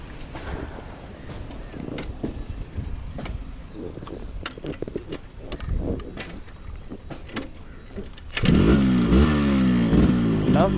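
A 1996 Yamaha RX100 two-stroke motorcycle being ridden: steady wind and engine rumble give way to a loud, raspy, crackling rev as the bike accelerates hard near the end.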